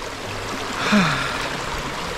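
A simple river flows steadily in an outdoor setting in Nueva Vizcaya, a constant close wash of running water with a brief soft breath or gasp near the middle.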